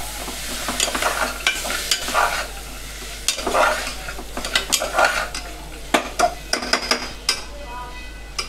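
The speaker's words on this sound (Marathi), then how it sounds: "छान हलवून घेऊया." Dal khichdi tadka being stirred in a pan, with a spoon scraping and clinking in repeated strokes over a steady sizzle of hot oil and spices, close and fairly loud.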